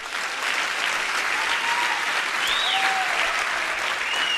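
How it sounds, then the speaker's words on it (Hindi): Audience applause at a network marketing training seminar: a steady, dense wash of clapping from a crowd filling the whole stretch, fairly close and even in loudness throughout. "चलो खुश होकर तालियां बजाओ थोड़ा।"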